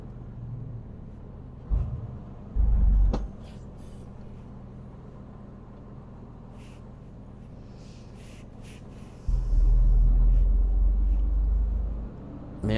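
Light road traffic at a quiet hour, with a near vehicle rumbling past briefly early on and another louder pass toward the end, separated by a calm, low background hum.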